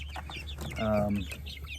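Chickens in a hen house coop cluck softly at close range, a few short stuttering calls rising to one drawn-out tonal squawk in the middle, over a low background hum.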